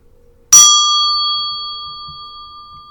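A single ritual bell struck once, loud and close, ringing out with bright sustained tones that slowly fade across the rest of the moment, nothing else beside it.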